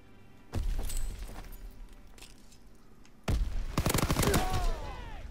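Gunfire in a Call of Duty-style search-and-destroy match, two loud rapid automatic bursts close by, with quieter game ambience in between.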